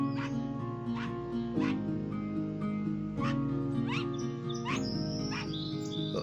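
A dog whimpers and yips, giving repeated high, wavering whines and short cries over a steady low background hum.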